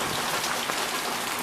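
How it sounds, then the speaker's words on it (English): Rain pours steadily in a dense, even hiss of countless drops striking surfaces outdoors, close and unbroken, with no voices. "we finally got some rain"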